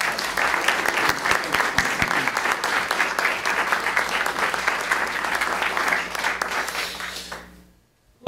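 An audience at a winter lecture series claps steadily as the lecturer David is welcomed, a full room of clapping that holds for about seven seconds before fading into silence.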